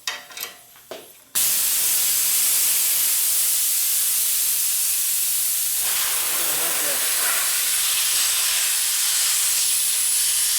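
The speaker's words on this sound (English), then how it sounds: "It blows, it dumps air pretty quick, especially on a small tank." A small air compressor tank dumps air through a muffler: after a brief moment of handling noise, a loud, steady rushing hiss starts suddenly and keeps going for about nine seconds.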